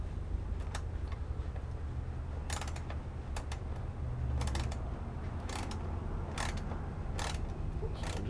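Hand tool tightening 12mm bolts on a Delkevic DL10 silencer being fitted to a Honda ST1300 motorcycle, irregular clicking and ratcheting bursts over a steady low background hum, close by, with no talking.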